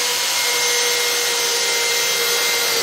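Milwaukee Fuel and Kobalt XTR hammer drills drive wood fasteners, a loud, steady high-pitched motor whine with grinding wood friction running continuously without pause.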